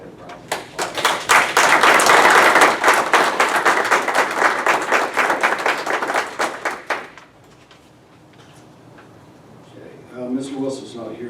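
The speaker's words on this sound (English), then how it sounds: "You deserve a big round of applause." A council meeting room breaks into a round of applause for the mayor, dense clapping from a modest crowd that builds and fades over about seven seconds, then quiet with a voice starting to speak near the end.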